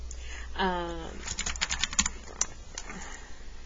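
Bursts of quick keyboard typing, clicky and close, with a brief hum-like vocal sound near the start and soft sniffing.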